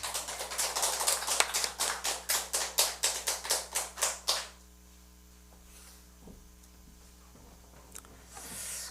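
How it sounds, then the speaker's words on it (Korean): A group claps in a steady, rhythmic beat for about four seconds, a dozen or more sharp even claps, welcoming a pastor at a creation-science talk at a care home, then the room falls quiet. "이 시간 우리 목사님 소개할 때 뜨거운 박수로 환영하면 좋겠습니다"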